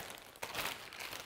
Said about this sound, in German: Also das war hier so eine Tüte